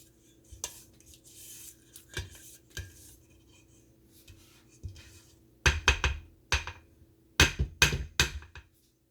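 A utensil scrapes and taps against a mixing bowl of chocolate pound cake batter, with scattered knocks at first and then quick clustered clatters near the end, close and moderately loud over a steady low hum.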